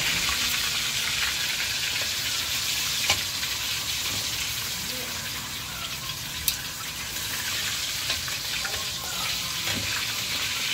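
Tilapia frying in a pan gives a loud, steady hiss and crackle of hot oil throughout, broken by a couple of sharp pops and light knocks.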